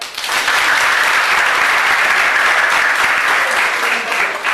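An audience at an environment-themed gathering breaks into loud, sustained applause, a thick wash of clapping that swells quickly and holds steady for several seconds with faint voices mixed in.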